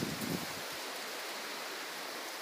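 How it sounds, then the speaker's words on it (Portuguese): Strong wind during a dust storm over a town in São Paulo state roars as a steady broadband rush, loud and unbroken, with a brief low buffet at the start. "Muito vento."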